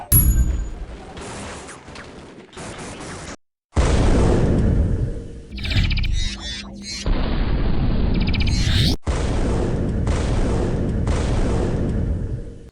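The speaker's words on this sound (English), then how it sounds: "While technically this is a particle beam gun, it's very much intended as a railgun type" A railgun-style particle beam gun firing in the video game Requiem: Avenging Angel, a series of loud, heavy blasts with sharp onsets and rumbling tails, separated by brief gaps and interspersed with metallic mechanical clicks.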